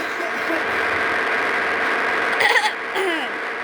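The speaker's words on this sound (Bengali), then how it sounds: "আমার একটু কাশি হয়েছিল তো" A person gives a couple of short, rough coughs close by over the steady drone of an engine.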